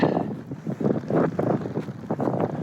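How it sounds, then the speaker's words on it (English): Strong, cold gusting wind on a snowy Scottish Highlands mountainside during a freezing wild camp, roaring and buffeting loudly into the microphone in uneven surges throughout, with no voices. "The wind's picked right up, so it's very cold."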